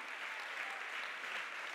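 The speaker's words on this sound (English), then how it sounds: "Come on, everybody, clap together." A church congregation claps together in steady, dense applause, loud and continuous with no talk over it.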